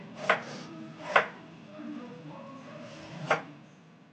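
Onions being chopped on a board, three sharp, separate knife thuds spaced a second or two apart, with faint soft handling noises between them.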